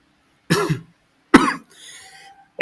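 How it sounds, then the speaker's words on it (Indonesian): Three harsh coughs from a person with a cough close to the mic, spaced apart with brief silences between, the middle one followed by a faint raspy breath. "emang lagi batuk, lagi kurang fit"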